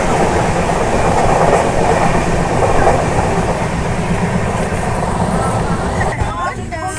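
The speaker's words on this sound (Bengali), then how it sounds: "এই কাটুয়া স্টেশন ছেড়ে আমরা বেরিয়ে যাচ্ছি।" The Howrah–Jammu express 12331, pulling out of Kathua station, rumbles loudly and continuously from onboard, with rail clatter throughout.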